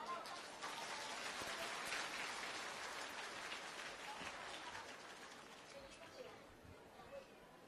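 An audience breaks into steady applause, a dense wash of clapping that stays even and then slowly fades toward the end.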